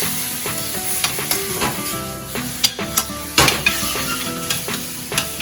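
Onions and garlic sizzling in a pan for butter chicken, a steady loud frying hiss punctuated by repeated clacks and scrapes of a utensil stirring against the pan, with no talking.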